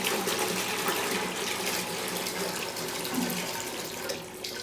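River water drawn by a hand-tested well pump gushes and splashes in a continuous, fairly loud stream close by, with no voices.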